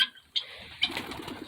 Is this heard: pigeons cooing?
yes